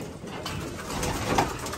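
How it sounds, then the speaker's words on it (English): Racing pigeons, white grizzles, coo softly and steadily inside a ventilated home loft, a low murmuring flock sound with faint rustling and no talk. "Look at these birds. These are the ones that he flies."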